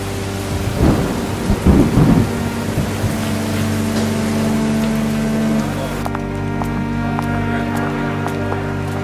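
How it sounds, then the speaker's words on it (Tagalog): A heavy storm with steady rain pouring on surfaces and loud, deep thunder rumbling through the first seconds, the downpour continuing as a dense wash throughout, with no talking. "Ayan na ang ulan."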